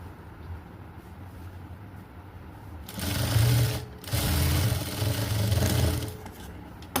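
A sewing machine stitches a blouse in short bursts, its rapid mechanical whirring rising loudly for a few seconds, pausing briefly, then running again before stopping, with quiet room noise between runs.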